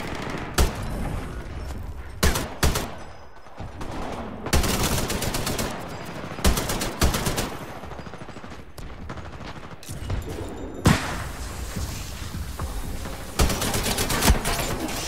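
Rapid automatic gunfire from the video game Titanfall 2 in a PS4 quick-play match, loud, close bursts of rattling shots that stop and restart in several volleys, with brief pauses between them.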